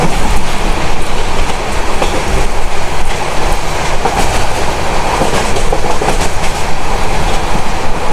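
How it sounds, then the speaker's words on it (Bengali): A non-stop express passenger train, the Mohanagar Provati Express from Dhaka to Chittagong, rumbles steadily along at speed, with continuous loud wheel noise and rattling clatter from the carriages, no voices. "আমাদের ট্রেন নন স্টপ চলছে"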